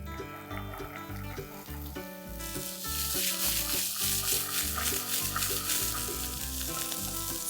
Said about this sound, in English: Stir fry the vegetables